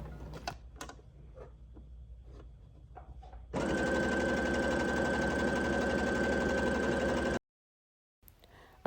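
A sewing machine straight-stitches a dress hem in one steady, close, mechanical whir of about four seconds, stopping abruptly. Soft handling taps come before it.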